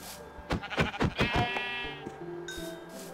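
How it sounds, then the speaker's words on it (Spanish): A sheep bleats repeatedly in Minecraft, a run of loud, wavering calls close by, followed by quieter game ambience. "Una oveja."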